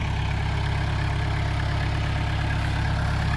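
A small tractor engine driving a water pump chugs steadily at constant speed nearby, a continuous low mechanical drone with no voices.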